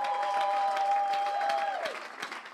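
A church congregation applauding during a worship service, dense, sustained clapping from a room full of people with a held musical tone over it, fading toward the end.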